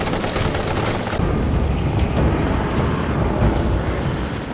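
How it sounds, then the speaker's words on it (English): Dense machine gun fire in a war drama, a loud close roar of rapid overlapping bursts blurring into a continuous rumbling barrage with no voices. "Their machine gun fire opened up all around, slowing down the American advance."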